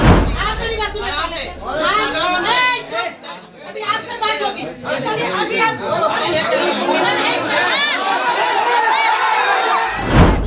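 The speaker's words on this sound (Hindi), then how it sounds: "बराड़ी में जीआर शिविर घोटाले के खिलाफ पीड़ितों का हंगामा," A crowd of protesting victims of a relief camp scam in Barari shouts in uproar, many loud overlapping voices clamoring continuously and close by.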